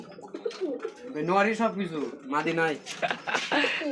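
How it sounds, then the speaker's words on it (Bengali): A pair of large white Bombay pigeons coo close by. Deep, throaty, warbling coos come in repeated rolling phrases that rise and fall, with short gaps between them. "হোয়াইট কালার মধ্যে একজোড়া বোম্বাই কবুতর"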